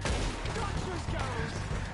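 Gunshots ring out in Red Dead Redemption 2, a dense, noisy burst of firing across two seconds with no clear gaps between shots.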